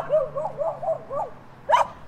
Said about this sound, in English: Just then, Kelly heard a bark.